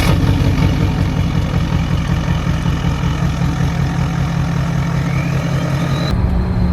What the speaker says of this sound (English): So the turbo sounds good.